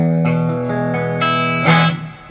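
A Coyle Custom Strat electric guitar with a baseball bat neck played through its bridge pickup with gain boost, a few sustained chords ringing out loud and bright, slightly driven, with no talk.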